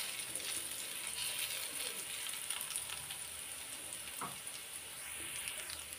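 Garlic fries in oil in a pan until reddish, giving a steady, fairly quiet hiss and crackle throughout with no talking.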